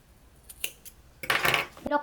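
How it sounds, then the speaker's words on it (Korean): Scissors snip through yarn during a crochet pouch project, giving a few faint clicks and then one louder, close cutting stroke with a brief metallic rustle. "가위로 잘라줍니다."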